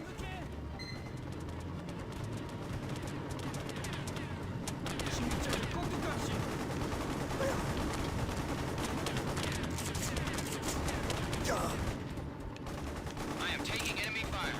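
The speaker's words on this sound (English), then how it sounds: "I am taking enemy fire." Enemy gunfire in Mercenaries: Playground of Destruction rattles almost continuously, with dense bursts of automatic fire and explosive crackle layered in a loud, busy combat mix.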